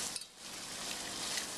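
A roux of flour and fat for sweet potato soup cooks in a pot, giving a faint, steady sizzle with a light clink near the start.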